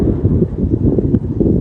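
Wind at sea aboard a sailboat running downwind through big waves, a loud, steady low roar buffeting the microphone in uneven gusts, close and alone.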